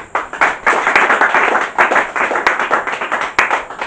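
A church congregation clapping loudly and rhythmically in praise, a dense steady beat of many hands close by with some irregular accents.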